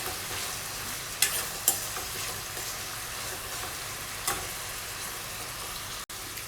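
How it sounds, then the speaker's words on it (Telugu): Onions and curry leaves fry in a pan toward golden for a cabbage-and-egg dish, a steady close sizzle with a few sharp spatula taps and scrapes, no voices. "ఇవన్నీ కూడా బాగా గోల్డ్ కలర్ వచ్చేంత వరకు ఫ్రై చేసుకోవాలండి"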